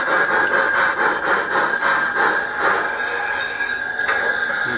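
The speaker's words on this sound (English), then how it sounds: "The brake squeal" A model BR50 steam locomotive squeals its brakes as it comes to a stop, with a sustained high metallic whine over rolling rumble, loud and close.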